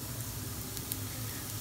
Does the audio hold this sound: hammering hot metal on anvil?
no